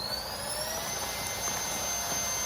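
Portable handheld vacuum running steadily as it compresses a sweatshirt in a storage bag, a loud continuous whining hiss with a high tone slowly rising in pitch, close up with no talking.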